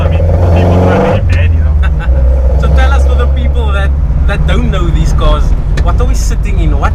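An Opel Kadett GSi with a 2.0 C20XE 16-valve engine drives along, its steady engine drone heard from inside the cabin while two people talk over it.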